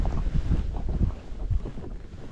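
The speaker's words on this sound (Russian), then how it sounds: "Ветер немножко не очень, но ну и ладно." Wind buffets a boat's microphone while fishing on the Oka river on a summer morning, a steady low rumbling roar with gusty swells throughout.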